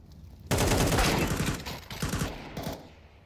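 Rapid pistol shots in a Counter-Strike match, loud and close, a dense volley followed by a few more spaced shots that fade out.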